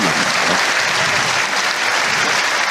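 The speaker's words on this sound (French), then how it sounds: "Là sont bien les applaudissements pour le carreau de Diego Rizzi." Crowd applause at a petanque Team Trophy final between Morocco and Italy, greeting Diego Rizzi's carreau; a loud, continuous burst of clapping from spectators that holds steady throughout.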